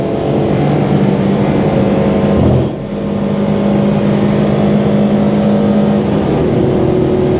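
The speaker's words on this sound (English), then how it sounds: "We'll try a cheeky fourth gear up change. Down a third." A Citroen C1 race car engine drones loudly and steadily from inside the cabin on track, dipping briefly at a gear change before the revs settle and climb again, with no talking.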